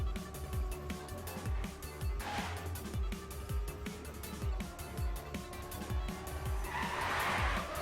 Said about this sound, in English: Will soon enter lap 14 out of 16, so we only got a few more laps left to go of this race.